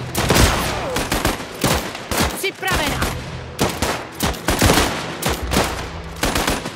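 Dense bursts of gunfire and machine-gun fusillades ring out in a Last Train Home battle, with rapid shots, sharp impacts and short pauses across the whole stretch, loud and close, with a brief spoken line in between.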